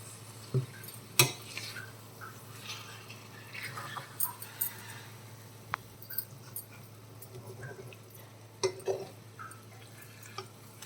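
Egg tomato curry stirred in a pan, soft scraping and scattered spoon taps against metal, faint and intermittent over a low steady hum, with no talk.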